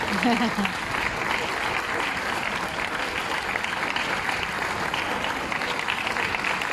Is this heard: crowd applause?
yes